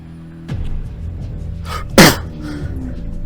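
A voice imitates a sneeze during a tabletop role-playing game: a sharp, loud burst with a breathy build-up beforehand, close to the microphone, with a faint murmur around it.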